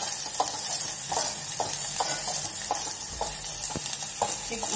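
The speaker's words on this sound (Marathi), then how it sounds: "जोपर्यंत मसाल्याला तेल सुटत नाही तोपर्यंत हा मसाला परतत राहायचा" Masala sautés in oil in a pan, with a steady soft sizzle and regular scraping strokes of a spoon stirring it, close and moderately quiet with no talking.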